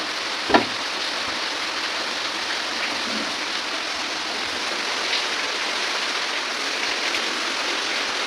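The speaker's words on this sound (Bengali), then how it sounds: "আশা করি বৃষ্টির আওয়াজ পাচ্ছ" Rain falls steadily in a constant, even hiss, with a single sharp knock near the start.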